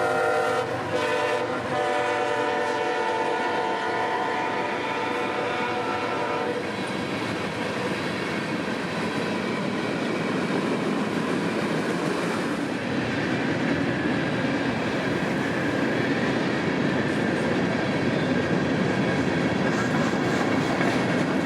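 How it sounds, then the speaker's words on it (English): A long freight train rumbles past at night on a Waycross-Baldwin rail line, with steady clattering wheels and a horn blast at the start, the roar continuous and close throughout. "Last train of the night would come just 20 minutes later, as M452 is lined through"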